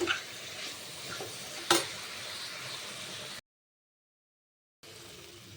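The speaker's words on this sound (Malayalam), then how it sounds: "മുട്ട ഇട്ടിട്ട് നമ്മൾ ഒരു മിനിറ്റ് ഒന്ന് അത് ഇളക്കുക" An egg stirred and fried in a hot pan gives a continuous sizzle with scraping stir strokes and one sharp clink near two seconds; the sound cuts out briefly before the sizzle returns.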